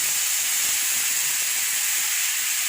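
Water poured into a hot pan of dry chili and cumin paste sets off a loud, steady burst of steam hiss and sizzle that fills the whole moment, with no talking.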